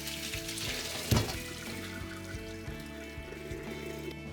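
Cooked beans being drained through a sieve for making sweet bean paste, a steady close rush of pouring water with a soft clunk near the start, alone without speech.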